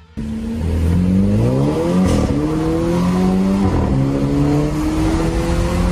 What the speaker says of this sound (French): vous pouvez entendre un système ALS sur cet essai